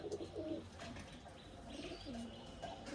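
Pigeons of fancy breeds kept for sale in Bolpur, a male and a female close by, giving low soft coos with a few faint chirps, a steady murmuring texture throughout.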